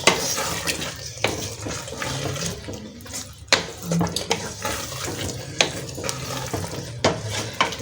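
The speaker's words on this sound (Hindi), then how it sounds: "अब मैं इसमें शामिल कर दूंगी चिकन जो हमने निकाल लिया हुआ था। अब हम इसको इसमें अच्छी तरह पका लेंगे।" Chicken stirred into a ground pumpkin curry in a pot, wet scraping and sloshing strokes with occasional utensil knocks, close and fairly loud, alone without talk.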